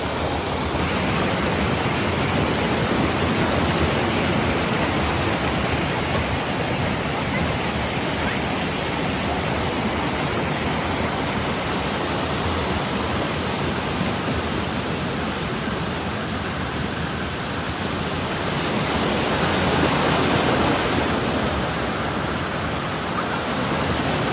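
Tinago Falls in Lanao del Norte pours as a loud, steady broadband roar of rushing water that stays constant and near throughout, with no voices.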